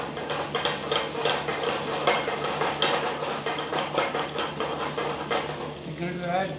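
Diced potatoes, to be finished with parsley and black pepper, are tossed in a pan with repeated quick rattling scrapes and clatters, close and fairly loud, over a steady cooking sizzle.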